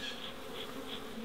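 Honeybees stirred up inside a backyard hive fitted with Flow frames while wax is being added, a steady agitated buzz droning close and fairly loud throughout with no voices.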